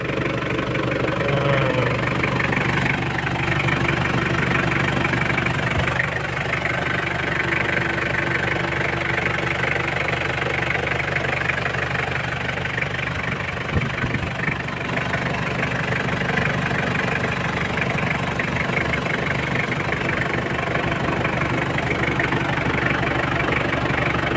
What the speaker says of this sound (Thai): อ่าก็มาดูเครื่องยนต์นะครับ